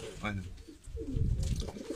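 Seferli Taklaci tumbler pigeons, a Turkish breed of Urfa origin, coo close by in a couple of short, throaty phrases, with a faint voice in the background.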